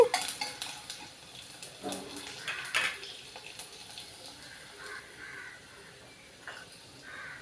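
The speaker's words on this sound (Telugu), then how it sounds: "ఆవాలు ఒక స్పూన్ జీలకర్ర ఒక స్పూన్ ఇవి ఒక్కసారి వేగాలండి" A spoonful each of mustard seeds and cumin sizzle in a hot pan with urad dal, while a metal spoon clinks and scrapes against the pan, loudest at the start and then settling into a steady crackle.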